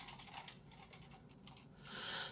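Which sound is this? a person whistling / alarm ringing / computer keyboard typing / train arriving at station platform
computer keyboard typing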